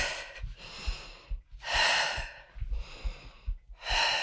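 Breath is drawn in and pushed out during a full-body mat workout flow, about four slow, audible breaths alternating in a steady rhythm, close and quiet, with no talk.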